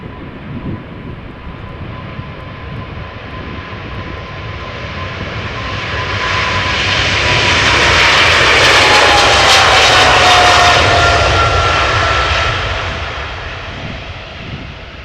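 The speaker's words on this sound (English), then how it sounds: "KLM flight 757, it is a 777-300ER, 15 years old, destination Panama City" A KLM Boeing 777-300ER jet airliner, fifteen years old, passing at Amsterdam Schiphol with a crosswind from the right: a loud engine roar that swells to a peak midway and then slowly fades, with a whining tone sliding downward, and no voices.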